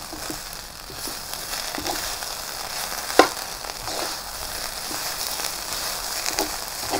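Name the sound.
fried rice with oyster sauce being stir-fried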